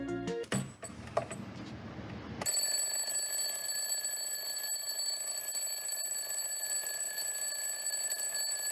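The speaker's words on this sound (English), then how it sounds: "I replaced it with an old-fashioned alarm clock." After a few clicks and clatters, an old-fashioned bell alarm clock breaks into a loud, continuous metallic ring that carries on steadily without pause.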